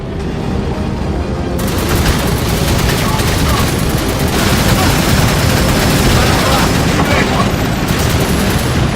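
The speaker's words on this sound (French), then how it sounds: "C'est un peu de grenade." Loud, dense battle noise with a heavy, sustained boom and crackling blasts of gunfire, consistent with a grenade explosion amid combat in a game, filling the whole stretch without pause.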